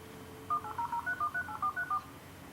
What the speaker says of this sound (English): It's dialing up all on its own.